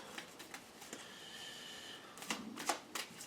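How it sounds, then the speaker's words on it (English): Playing cards are shuffled close up, a soft riffle followed by several crisp snapping flicks, quiet and without talk. "I gotta shuffle these."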